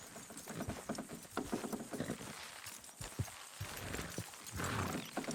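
Rhythmic clip-clop of hooves from horses trotting at a steady pace in the video game Red Dead Redemption, with a continuous background hum and no talking.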